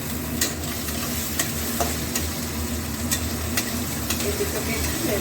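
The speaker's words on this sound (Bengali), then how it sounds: "তেলের মধ্যে একটু নেড়ে চেড়ে নেব দুটোকে।" Mustard oil sizzles steadily in a pan as ingredients for a bottle gourd, lentil and rice dish are stirred, with repeated scraping strokes over a continuous frying hiss; no voices.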